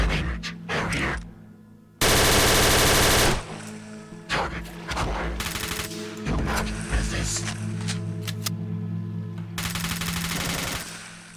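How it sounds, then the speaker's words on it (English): An automatic Glock pistol fires in a first-person shooter, loud rapid bursts of gunfire repeating several times, separated by quieter game sounds. "new pistol. And this time is it's a Glock, right? And it's automatic."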